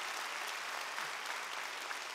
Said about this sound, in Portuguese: dá um aplauso para essa turma